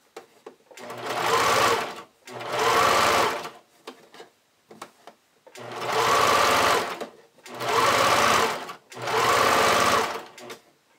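A sewing machine stitches a back tack to anchor fold-over elastic on a bodysuit, running in five loud, steady bursts of about a second and a half each, separated by short pauses for repositioning.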